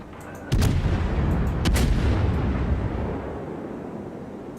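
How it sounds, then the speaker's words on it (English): Heavy warship guns firing in World of Warships, two booming salvos close together near the start, followed by a long rumbling roll of blast and echo that slowly fades. "All stations concentrate fire on the target."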